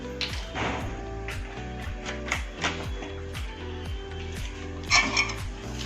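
A spoon clinks and scrapes repeatedly against a bowl while mixing dark soy sauce and other sauces, rhythmic metallic taps close by, with a couple of sharper knocks near the end.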